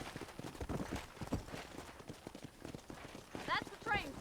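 Rapid hoofbeats of a horse in Red Dead Redemption clip-clop steadily under a voice, with two brief whinnies near the end.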